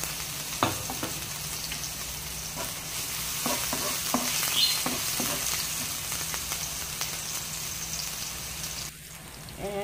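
Ginger and garlic frying in hot oil for pininyahang manok, a dense crackling sizzle like rain on a surface, with occasional stirring knocks, close and steady, with no talking.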